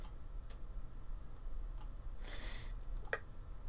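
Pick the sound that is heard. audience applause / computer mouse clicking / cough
computer mouse clicking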